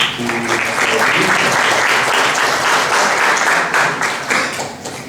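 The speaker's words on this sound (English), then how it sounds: "a round of applause for Col Anil Athale" Loud audience applause at a session with Col Anil Athale on the 1962 war, many hands clapping densely for several seconds before tapering slightly at the end, with faint voices briefly underneath.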